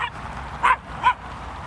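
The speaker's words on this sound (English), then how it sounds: "the dog was barking on me" A dog barks twice in a residential area of a Russian park, two short, fairly close yaps about half a second apart over steady outdoor background noise.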